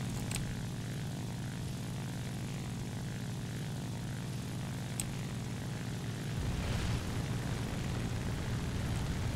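Propeller engine of an XP-55 Ascender fighter in War Thunder, a loud, steady droning roar with a low rumble that thickens and shifts pitch near the end, continuous and without speech.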